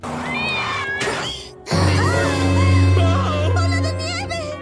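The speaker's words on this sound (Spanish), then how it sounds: "vemos que por accidente el Dr. Hibbert atropella a Bola de Nieve 2, dejando a la pobre Lisa sin su mascota." A cartoon cat from The Simpsons meows in a string of loud, drawn-out, wavering cries, with a brief pause near the middle before a sustained, strong yowl that runs to the end.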